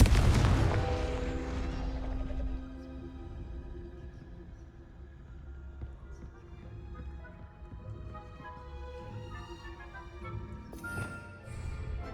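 A Confringo blasting spell goes off in Hogwarts Legacy: a loud booming burst up front that rumbles and rings out, with a low sustained tail and another flare near the end, no talking.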